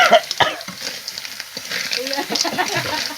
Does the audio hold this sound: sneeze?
no